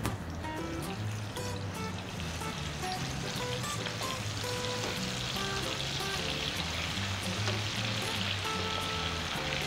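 Six large garlic cloves frying in hot oil for an Egyptian okra dish, a steady close-up sizzle that stays dense and even throughout with no talking.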